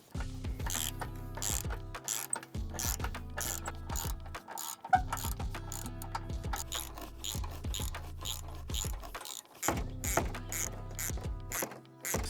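A hand ratchet clicks steadily in bursts while a screw is backed out on a 4th gen Toyota 4Runner during a front bumper install, close and clear with short pauses between strokes and no talking.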